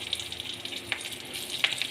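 Green chilies dropped into hot oil left over from frying fish sizzle and crackle steadily for a couple of seconds, a soft continuous hiss with a few sharper pops, fairly quiet and close, with no voices.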